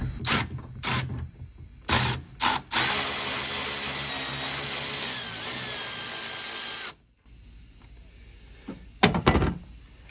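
Ratchet or power tool loosening two 10 mm nuts on a 2017 BMW X4 M40i during a trailer wiring harness install: several short mechanical bursts, then a long steady whirring run, then a pause and a final burst.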